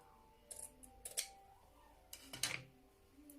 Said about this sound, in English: I will take my scissors